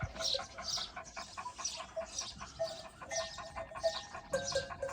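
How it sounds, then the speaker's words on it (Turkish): A sheepdog guarding sick sheep on a cold mountainside pants heavily in quick, steady, breathy bursts, close and clear with no talk over it. "Acayip soluyor."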